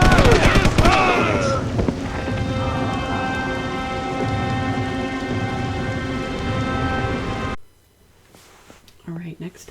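Rain and thunder in a video game: a loud thunder crack opens over heavy rain, then steady rainfall with a tonal humming layer continues until an abrupt cutoff, after which a voice speaks faintly.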